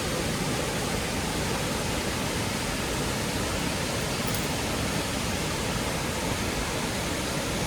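Jujjar Waterfall in the Karsog Valley, Himachal Pradesh, roars as a steady, dense wash of falling water, loud and close, continuous and alone with no voices.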